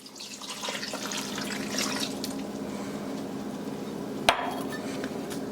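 Water pours steadily into a pan holding sugar with a continuous splashing rush, followed by a sharp clink near the end.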